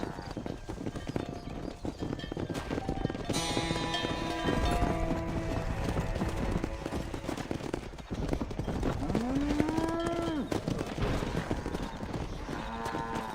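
A cattle herd in Red Dead Redemption moves along with a continuous clatter of hooves, while low, drawn-out moos rise over it, one louder moo standing out near the end.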